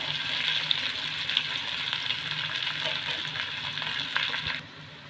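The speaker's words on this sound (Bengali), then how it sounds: "আবারও ওই কড়াইয়ে কিছুটা সরষের তেল দিয়ে কালো জিরে আর কাঁচা লঙ্কা ফোড়ন দিয়ে এখানে পেঁয়াজ কুচিগুলো ভেজে নেব" Chopped onions frying in mustard oil with nigella seeds and green chillies in a kadai, a steady bright close sizzle with occasional pops and stirring scrapes that cuts off near the end, without talk.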